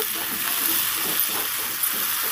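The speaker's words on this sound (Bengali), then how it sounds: "ভালো করে একটু নেড়ে দেব" Potatoes frying in a pan for a bitter gourd dish, with steady sizzling and hiss under a few soft scrapes of stirring, close and continuous with no talking.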